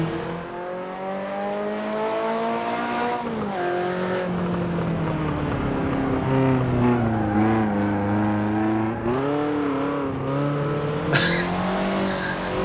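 Rear-wheel-drive race car in a racing simulator game, engine droning steadily throughout with pitch rising and falling through gear changes and throttle shifts, plus a brief tire squeal near the end, loud and alone with no talk.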